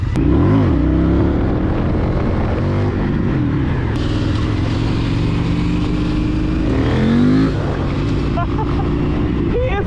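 A KTM 890 motorcycle engine revs hard during a small wheelie, a loud, close, rising and falling roar with wind buffeting, while a rider talks over it.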